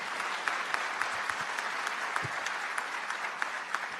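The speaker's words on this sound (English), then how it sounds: "give them a round of applause." Audience at a Delaware town hall applauds steadily throughout, a dense, even wash of many hands clapping in a medium-sized room, with no voices rising above it.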